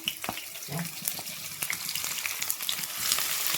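Chopped onions hitting hot oil with masala in a catering-style curry pan, giving a close, bright sizzle with stirring scrapes and small clatters throughout, no talk.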